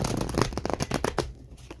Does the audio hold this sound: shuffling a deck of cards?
yes